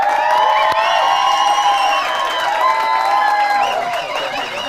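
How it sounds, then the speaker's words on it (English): A large audience welcoming the Group CEO of Spar onto a stage, with loud sustained cheering, whoops and high shouts over continuous clapping that stays strong throughout. "please give me your loudest noise, your loudest applause"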